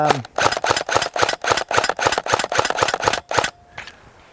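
A G&G RK47 airsoft AK rifle with a full blowback system fires in semi-auto. Roughly a dozen crisp, loud, close shots come in a quick, even rhythm, then fall silent.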